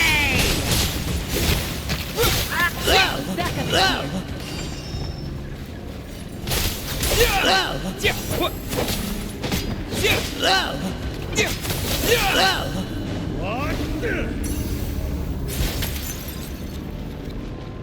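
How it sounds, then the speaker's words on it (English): Bombs tossed and bursting in Genshin Impact, a run of loud blasts and pops scattered through the stretch alongside game music and effects, with a voice talking over parts of it. "Bombs away!"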